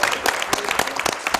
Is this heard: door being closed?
no